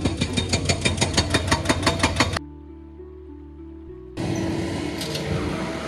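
A motorcycle engine knocks on a dusty road in Rolpa, with rapid, even tapping pulses that stop for a quieter steady hum, then return as a rougher continuous running sound.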